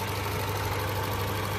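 A 2014 Honda Jazz RS GK5 with automatic transmission idles steadily, giving a close, continuous low hum with a faint mechanical rattle and no talk.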